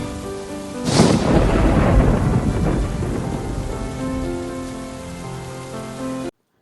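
A loud thunderclap breaks and then rolls away over steady heavy rain pattering on surfaces, with a soft musical tone underneath and no voices.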